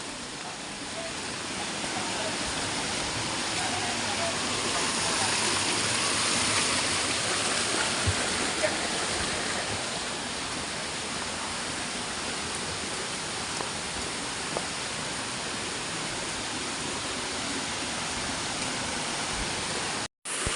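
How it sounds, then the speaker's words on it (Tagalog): A waterfall roars steadily and continuously as a dense wash of rushing water that stays even from start to finish, with no clear voices. "Ito yung falls."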